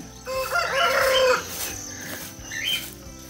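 A chicken perched up on the roof inside a house gives a loud, drawn-out squawking call that fades, followed by a shorter second call, close by with no talking.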